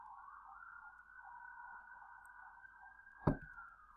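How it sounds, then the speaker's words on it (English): An emergency vehicle siren on a London street wails steadily from a distance through a room, with one sharp bump or knock close by near the end. "I apologize for the sirens"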